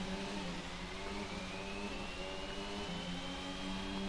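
A racing car in a racing video game brakes into a tough corner, its engine a steady high whine with a slowly rising pitch, faint and continuous with no voices.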